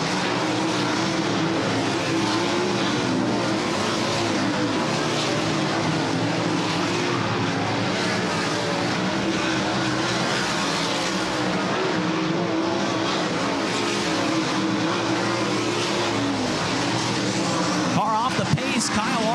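410 sprint cars hot lapping on the Eagle Raceway dirt track during a High Limit Racing event, a steady, loud roar of several engines running continuously, with an announcer talking over the noise.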